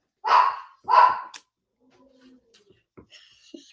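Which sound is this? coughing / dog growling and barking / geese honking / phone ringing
dog growling and barking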